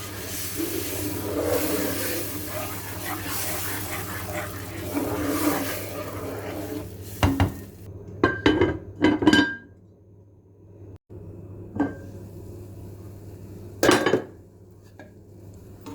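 Semolina halva being stirred in a pot after its syrup has been poured in, with a close metal spoon clinking and scraping against the pot in bursts, separated by quieter pauses.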